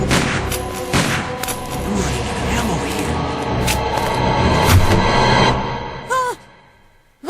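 Gunfire in the Resident Evil video game, with dense bursts and booming shots blending into a continuous roar of action and music, while voices shout over it before it cuts off abruptly near the end.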